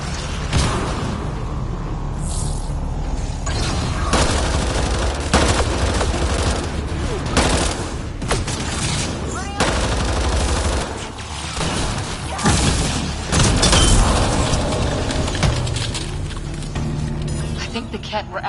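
Gunfire and explosions fill a Mass Effect Andromeda firefight, with continuous rapid shots, thuds and crashing blasts layered densely throughout, while voices shout over the combat.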